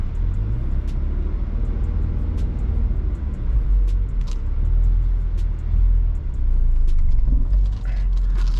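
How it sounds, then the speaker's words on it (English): Manual-transmission car idling and running steadily without stalling, a continuous low engine rumble with slight swells, heard from inside the vehicle with faint clicks above it. "The car did not shut off. I did not stall."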